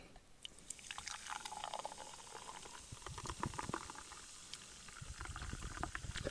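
Fanta soft drink is poured into a glass, a steady close fizzing pour with crackling carbonation bubbles that grows louder and more spattery as the glass fills.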